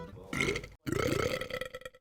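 A long, loud human burp rumbles for most of a second, breaks off in a brief gap, then rolls into a second drawn-out belch that slowly fades.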